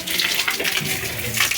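Water gushes steadily at a spring-fed spot, a broad continuous rushing wash with a faint voice underneath.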